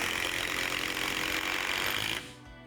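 A Procraft Industrial cordless impact driver runs at its fourth speed setting, driving a screw with a loud, dense, rattling whir for about two seconds before cutting off abruptly.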